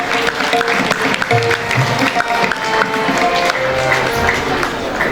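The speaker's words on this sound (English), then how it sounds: "Please clap." A school awards-day audience applauds a student, with steady, dense clapping over murmured crowd noise.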